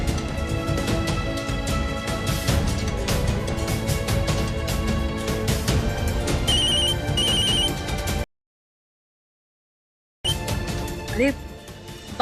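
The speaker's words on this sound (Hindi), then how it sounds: "बार बार एक ही नंबर से फोन आ रहा है।" A phone rings over and over with a repeating electronic ringtone. It plays through a busy background of music and sound in a domestic TV drama scene, then cuts to a brief silence before resuming.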